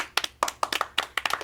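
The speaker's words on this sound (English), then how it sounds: "Let's just clap." Hands clap rapidly in short, uneven bursts, roughly a dozen crisp, close claps within a second and a half, with no talk over them.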